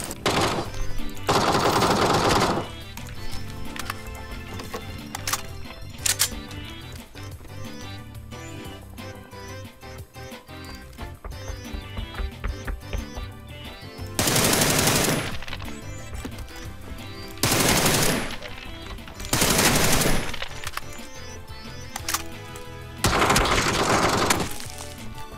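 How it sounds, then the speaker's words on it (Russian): Bursts of automatic gunfire in the battle-royale video game PUBG, loud broadband volleys arriving in several separate clusters with quieter stretches of game ambience between them and no talk. "Здесь кто-то был, по мне стрелял, чуваки."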